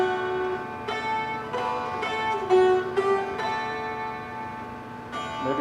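Dulcimer strummed with the back of the hand rather than a quill, giving a series of ringing strums at uneven intervals over a sustained droning resonance, steady and close.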